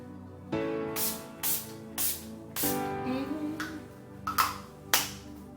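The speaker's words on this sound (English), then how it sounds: "I am going to use my Urban Decay All Nighter Makeup Setting Spray" Several short bursts of a spray mist, hissing in quick puffs separated by brief pauses, close up, with a soft tonal hum in the background.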